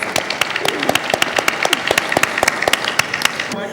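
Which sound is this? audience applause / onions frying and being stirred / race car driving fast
audience applause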